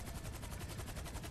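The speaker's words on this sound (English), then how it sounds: "Stop shooting at me." Rapid gunfire in GTA V Online, a dense, continuous automatic rattle with steady pulsing bursts, loud and close, filling the whole moment without any talk.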